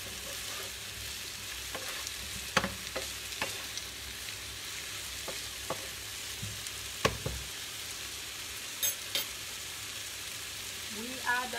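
Finely chopped zucchini frying in a pan, an even crackling sizzle close by, punctuated by scattered clicks and scrapes of a utensil, with no one speaking.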